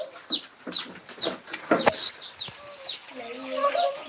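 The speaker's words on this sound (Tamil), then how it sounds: "பாருங்கண்ணா கோழிங்கெல்லாம் பாருங்க" Several chickens cluck and chatter close by in quick, overlapping bursts, with a few soft background noises.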